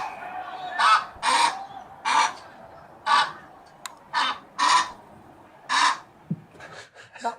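Several loud, harsh caws from large city birds ring out one after another at an uneven pace, close by, with a few softer calls trailing off at the end.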